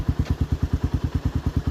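A Suzuki Raider motorcycle engine runs nearby with a steady, rapid thumping pulse, like a close idle, clear and alone without talk.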